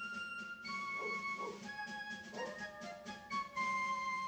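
A cartoon dog barks in an animated scene, a series of faint, tonal yelps and yips spread across a few seconds against quiet background sound.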